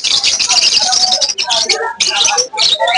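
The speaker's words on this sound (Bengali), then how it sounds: "খুব সুন্দর সুন্দর পাখি, জাভা, বার্জিগার, লাভবার্ড, এখানে লাভবার্ড, ককাটেল।" Caged java sparrows, budgerigars, lovebirds and cockatiels at a busy bird market in Mirpur chirp and tweet loudly and continuously, a dense, close chorus of overlapping calls with brief dips.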